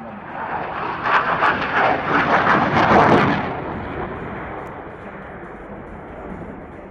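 An F/A-18 Hornet jet maneuvers at the Avalon Airshow, its engine roaring loud and rough as it builds to a crackling peak around the middle, then fading into a steadier distant rumble.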